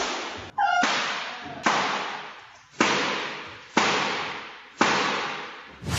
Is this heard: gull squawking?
no